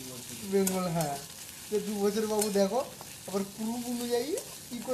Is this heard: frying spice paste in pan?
yes